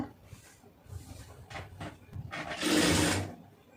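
Sewing machine stitching a folded lace round-neck hem on a blouse, with a loud steady whirring burst of about a second near the end after a few short, quieter runs.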